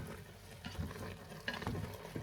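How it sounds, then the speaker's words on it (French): Meat browns on all sides in a hot pan, giving a steady soft sizzle with occasional stirring scrapes, close but quiet, with no talking. "on va attendre de bien dorer la viande sur toutes les faces"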